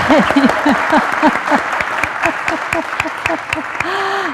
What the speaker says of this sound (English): let's all give Ron a big round of applause